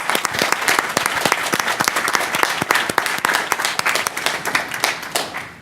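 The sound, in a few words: audience applause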